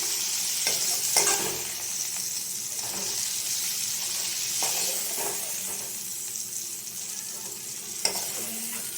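Freshly grown cauliflower seasoned with salt and turmeric fries in oil, giving a constant close hiss broken by a few sharp scraping knocks as pieces are lifted out of the pan.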